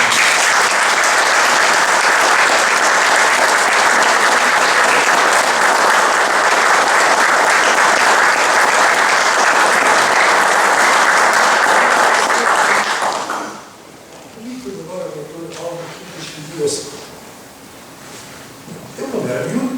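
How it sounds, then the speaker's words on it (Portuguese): A crowd at a book launch gives loud, sustained applause for about thirteen seconds before it stops abruptly and a single voice begins speaking. "eu peço uma salva de palmas"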